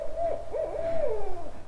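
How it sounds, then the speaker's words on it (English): A barred owl, a mother bird protesting during banding of her young, gives a loud, close hooting call with rising and falling swoops, alone without talk. "That's a typical call of a barred owl."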